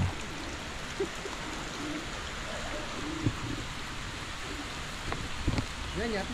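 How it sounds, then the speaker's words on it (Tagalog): Steady rain falls hard outdoors over a tilapia fish farm pond, a dense, constant hiss with scattered drops and a few faint calls mixed in, while people talk quietly nearby. "Lumalakas ang ulan, lumalakas."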